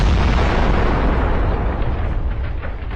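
A tank's ammunition detonates after a kamikaze drone strike, a loud, sustained roaring blast with rumbling low end and crackling bursts that slowly tapers, heard with no voices.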